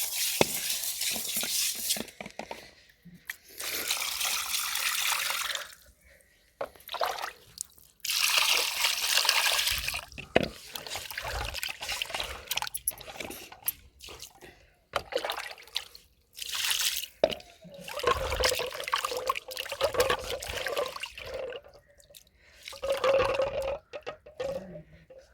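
Water splashes and trickles in uneven bursts while a freshly cut gendi fish is rinsed, running on and off with wet squishing between pauses.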